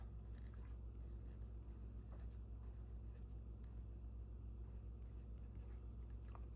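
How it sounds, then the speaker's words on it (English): A pen moves over a small scrap of paper in faint, intermittent scratchy strokes, very quiet above a steady low background rumble. "Maybe I will handwrite bubble trouble."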